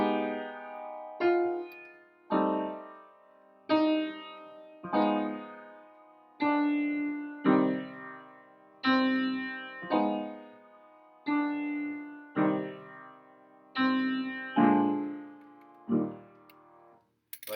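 Jazz orchestra playing a slowed section of Tchaikovsky's Sixth Symphony as a bed for improvisation, with sustained chords struck roughly every one to two seconds, each decaying before the next in a slow, even pulse.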